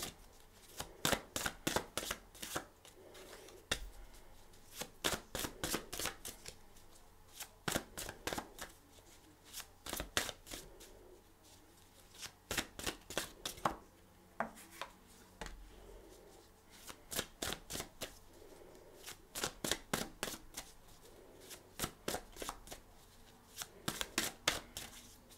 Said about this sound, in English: I'm going to give them a couple shuffles.